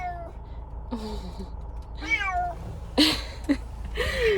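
A cat meows repeatedly and plaintively from inside a car, several drawn-out cries in a row over a low engine-like hum.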